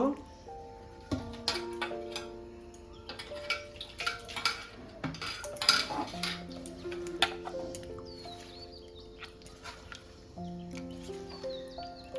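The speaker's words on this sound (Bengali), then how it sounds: "ভালো করে গোলাটা তৈরি করে নেব। আর একটু পাতলা করব।" Batter for pumpkin-coconut chops is mixed with water in a bowl, with irregular tapping and sloshing strokes that come and go beneath soft background music.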